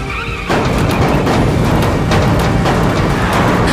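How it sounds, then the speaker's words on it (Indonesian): An anime bus in a zombie scene surges forward with a loud, dense roar that bursts in after a brief quieter moment, followed by sustained rumbling and repeated impacts as it rams through zombies, with no voices. "Shizuka pun langsung tancap gas dengan menabraki para zombie itu"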